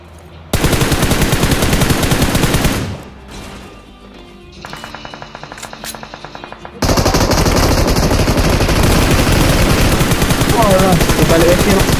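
Automatic weapons fire in a video game shooter: rapid, loud bursts rattle continuously, drop to quieter scattered shots for a few seconds, then resume as sustained heavy fire to the end.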